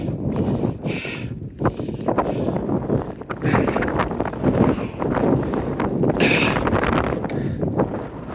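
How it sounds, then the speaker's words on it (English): Strong gusting wind buffets the microphone throughout on an exposed mountain ridge, Franconia Ridge, with rumbling bursts that swell and ease, loud and close, with no voices. "All right, it's getting windy."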